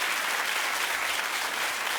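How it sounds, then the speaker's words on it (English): A talk show studio audience claps without pause, a thick, loud, even wash of many hands with no voices over it. "Oh, keep clapping."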